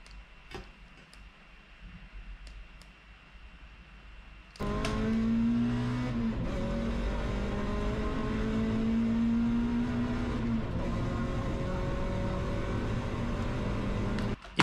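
Rally car engine on a Rajd Barbórka stage in Warsaw, quiet at first, then a sudden loud, steady engine roar with rising and falling pitch that carries on to the end.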